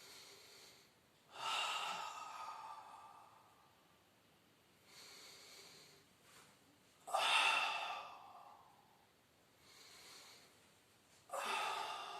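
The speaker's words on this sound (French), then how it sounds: "Un mouvement de respiration encore." Deep breathing during a Pilates abdominal workout: four slow, loud breaths taken close up, each a drawn-out airy hiss, with quiet pauses between them.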